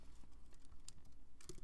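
Typing on a computer keyboard: quick, close, soft key clicks in an irregular stream, with a couple of louder taps.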